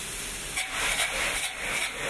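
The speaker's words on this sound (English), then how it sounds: "we're going to be spraying it on exterior grade drywall or gypsum board" A spray rig blasts Zip Coat insulation onto exterior-grade drywall at a fire station, a loud continuous hiss that surges and eases slightly throughout.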